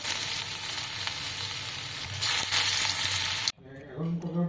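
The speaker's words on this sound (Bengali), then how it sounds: "এখন শুধুমাত্র আমার জন্যই পকোড়াটা ভাজা হবে" Cabbage pakoras fry in a pan of hot oil, a loud, continuous dense sizzle that swells for a moment, then cuts off abruptly to a quieter scene with faint voices.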